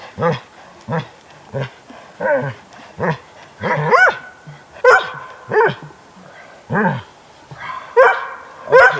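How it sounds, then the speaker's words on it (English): A dog barks and yips over and over in short excited bursts, close by at a campsite on a wilderness trip, with a person's voice in between. "Oh, stop being so barky."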